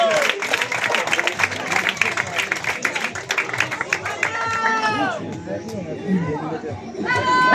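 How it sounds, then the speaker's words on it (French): A campsite crowd applauds and cheers prize winners outdoors, steady clapping for several seconds mixed with lively chatter and voices, fading into talk and shouts near the end. "je pense qu'on peut les applaudir"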